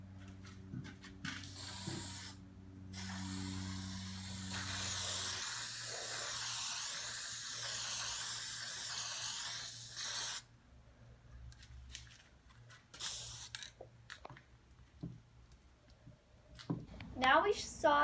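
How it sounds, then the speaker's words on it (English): A spray can hisses in a long steady burst as black paint is sprayed onto the base of an edge-lit sign, with short bursts and handling noises before and after and no talk over it. "I'm going to spray paint this black on this so the Neopixels won't shine through the base."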